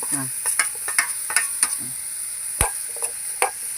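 Soybean curry being stirred in a frying pan, with a spoon scraping and tapping in irregular strokes over a light sizzle, close and clear.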